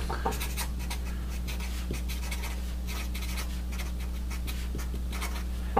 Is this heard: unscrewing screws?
no